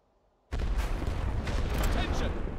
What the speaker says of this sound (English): Suppression barrage.